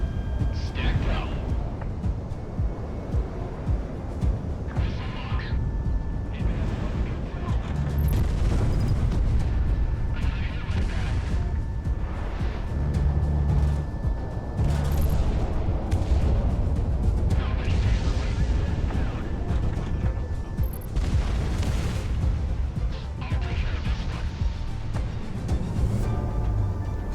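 In the Project Wingman flight combat game, aircraft cannon fire and explosions come as dense rumbling bursts over a constant engine roar, heavy and loud throughout, with radio chatter running on top.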